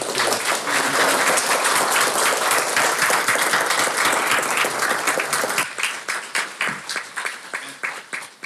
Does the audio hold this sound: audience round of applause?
yes